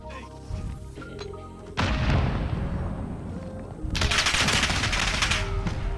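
Call of Duty Modern Warfare gameplay rattles with rapid gunfire and booming shots, loud and dense, growing heavier partway through and then bright and sustained near the end.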